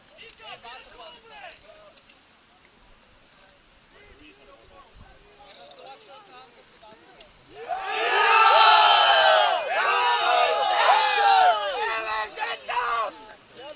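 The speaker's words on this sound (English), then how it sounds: "as you can tell by the cheering, the Austrian bench are very passionate and enthusiastic" Austria's team bench cheers and shouts at a water polo match, a crowd of voices swelling suddenly from quiet background chatter into loud, sustained whooping and yelling that lasts several seconds before tapering.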